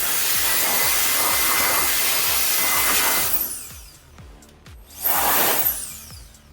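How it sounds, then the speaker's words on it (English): Compressed air blasts into a car's interior speaker grills, a loud steady broadband hiss for about three seconds, a short pause, then a second burst, with a faint ticking running underneath. "Blow them out with a little bit of air,"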